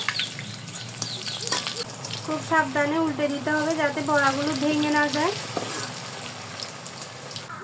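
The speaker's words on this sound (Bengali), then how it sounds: "এই যে এখন বড়াগুলো ভাজা হচ্ছে" Drumstick leaf fritters fry in hot oil with a steady crackling sizzle, close and continuous, while someone talks over it throughout.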